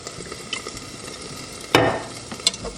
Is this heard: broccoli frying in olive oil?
yes